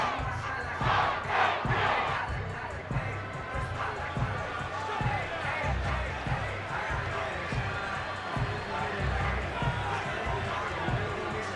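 A simulated stadium crowd in the Madden NFL 25 football video game roars and cheers during a Ravens versus Steelers game, a dense, sustained wash of voices with sharp thumps and an announcer talking over it.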